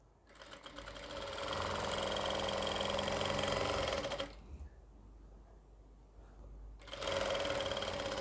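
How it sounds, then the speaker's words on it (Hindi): A sewing machine stitches a seam on a palazzo skirt in two close, loud bursts of rapid whirring, separated by a short quiet pause. "यहाँ से देखिए इस तरीके से सिलाई लगाएंगे"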